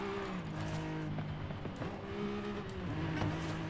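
Nissan 370Z Nismo in Forza Horizon 5 accelerating on a track, its engine note rising and falling through several revs at moderate loudness with no talk.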